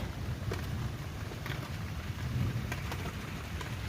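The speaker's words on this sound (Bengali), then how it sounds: "ও আবার বজ্রের আওয়াজ" Heavy rain pours steadily during a thunderstorm, a dense close patter with low rumbling thunder underneath throughout, and no one speaks.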